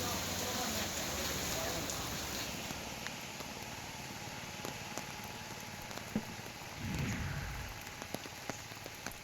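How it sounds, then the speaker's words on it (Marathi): Heavy continuous rain falls in Radhanagari, Kolhapur, a steady dense patter on surfaces that runs throughout, with a few sharper drips and a brief louder rush near the end. "राधानगरी तालुक्यात गेले 8 दिवस पावसाची संततधार सुरू आहे."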